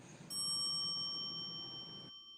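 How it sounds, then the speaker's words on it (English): A single bell sound effect rings out clearly, a bright bicycle-bell-like chime that sustains its pure ringing tones for nearly two seconds before cutting off abruptly. "I just want to use the bell sound"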